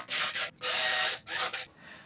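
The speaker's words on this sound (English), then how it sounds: "I have my holes here and I can just drill right through it." A drill bores holes through an aluminum pedalboard in three long bursts of harsh whirring and grinding, each separated by brief pauses, close up with no talking.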